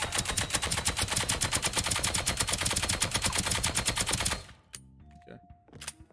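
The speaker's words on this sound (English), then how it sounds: "And then her Gatling gun" Gatling gun in the spy game Deceive Inc.: a rapid, even stream of shots rattles on for about four seconds, then stops abruptly and leaves quieter game sounds.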